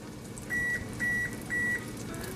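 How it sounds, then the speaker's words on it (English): Three short electronic beeps sound in an even rhythm from an oven signaling it has finished preheating, clear over a low background hum. "That's the sound of the oven being ready."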